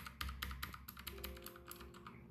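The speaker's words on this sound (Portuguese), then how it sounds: "a gente quer ser game, tem que ter um teclado mecânico" Quick, clicky keystrokes on a mechanical gaming keyboard come close and fairly quiet, a short irregular burst of clacks with no one speaking.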